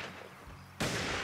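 A loud in-game gunshot from a Western 1849 Reloaded video game cracks out sharply near the end, following a quieter stretch of low background rumble.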